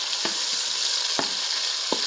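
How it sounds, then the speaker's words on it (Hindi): Onions browning in a pan, with a steady, bright sizzle of hot oil throughout and a few soft scraping stirs standing out at intervals; no one speaks. "जब तक प्याज ब्राउन होता है"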